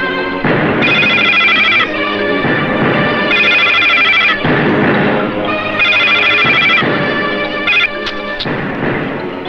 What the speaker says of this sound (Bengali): এটা যুবরাজের ফোন।